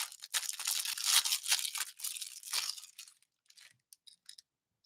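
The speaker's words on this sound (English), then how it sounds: "Okay, let's rip it open." A wrapped Christmas gift package is ripped open up close: loud, rough paper tearing in several quick pulls over about three seconds, then fading into sparse, faint crinkles with no speech.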